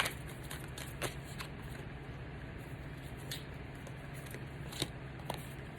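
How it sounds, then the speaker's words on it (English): Tarot cards being shuffled by hand, a steady close-up papery riffling and rustling with repeated soft snaps and flicks, heard alone without talk. "y'all seeing me shuffle once again"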